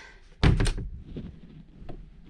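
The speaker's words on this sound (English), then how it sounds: "Door closed." A door closes inside an off-grid tiny house with a shower under construction, giving one loud, close thud followed by quiet room tone and a few faint soft knocks.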